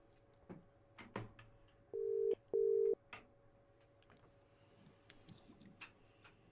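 A phone call is placed: two short, clear electronic tones sound in quick succession over a quiet background with faint ticking and clicks.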